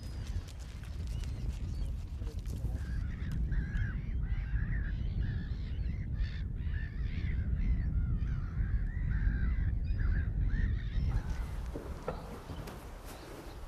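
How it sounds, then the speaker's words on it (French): Gulls and larger seagulls squabble on a seashore during a nature outing, harsh overlapping calls and squawks rising over steady wind or surf noise, fairly close and continuing for several seconds. "Ça se bagarre entre les mouettes et les goélands."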